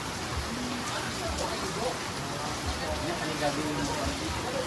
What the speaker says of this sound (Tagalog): malakas ang ulan na malakas na naman ang ulan